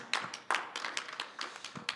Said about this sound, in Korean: 우리 한번 하나님께 감사의 박수 한번 하겠어요